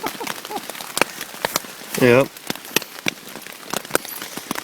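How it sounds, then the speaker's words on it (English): Rain patters on a tent during a night on the Appalachian Trail in September, a steady run of close, irregular drops, with a short spoken reply midway. "since it's raining"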